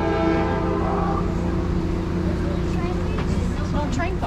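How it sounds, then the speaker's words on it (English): A Texas State Railroad excursion train near Palestine, Texas sounds its horn in a sustained multi-tone blast that fades after about a second, over steady rumbling rail and engine noise, with people talking close by. "Heard the choo-choo train."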